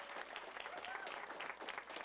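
Crowd at a New York City nurses' union event breaking into applause, a dense, continuous patter of many hands that sounds fairly distant and soft, with voices mixed into the crowd noise.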